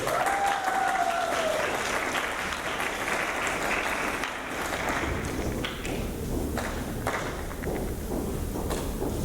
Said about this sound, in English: So give her a big round of applause as she comes up here.